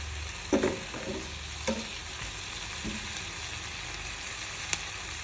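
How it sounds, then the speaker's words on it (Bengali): Masala ingredients fry in a pan with a steady low sizzle, broken by a few sharper stirring scrapes and clatters near the start and one brief tick toward the end. "যতক্ষণ না ভালো করে এটা ফ্রাই হচ্ছে"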